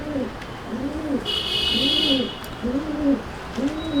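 Pigeons coo in a loft of show pigeons, a steady series of rhythmic, rolling coos repeating about once a second, close and clear, with a brief high hiss partway through.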